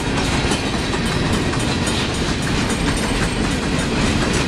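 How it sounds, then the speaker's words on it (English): A long freight train passes through a town, a steady, loud, continuous rumble and rattle of rolling wagons with faint clickety-clack, unbroken throughout and with no voices. "Long, never-ending train. This goes on and on and on, all day and all night."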